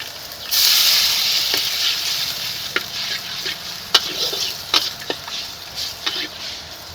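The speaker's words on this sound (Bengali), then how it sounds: "পেঁয়াজটাকে যে ভালো করে ভেজে নিয়েছি, এখন এর ভিতরে দিয়ে দেবো অল্প করে জিরে বাটা, আদা বাটা, একটু রসুন বাটা" Onions frying in a pan as cumin, ginger and garlic pastes go in, a steady loud sizzle with intermittent stirring clicks and scrapes, close by and without talk.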